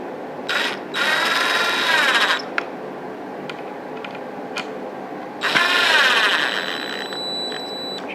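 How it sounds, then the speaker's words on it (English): A power drill slowly driving screws while a ceiling fan is installed whirs in two slow, sustained bursts separated by a quiet pause, with faint clicks in between, close by and fairly loud. "I'm just going to very slowly with my drill do the center one first."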